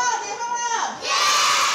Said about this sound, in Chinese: 学生欢呼声响彻礼堂